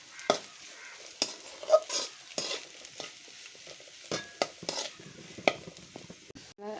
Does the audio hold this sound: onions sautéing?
yes